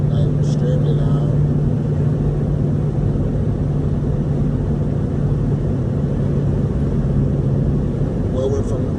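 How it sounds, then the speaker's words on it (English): Loud, steady wind roar and low road rumble fill the cabin of a car driving at night, constant throughout with a faint tonal hum underneath and no break in the noise. "the wind noises is loud, like extremely loud"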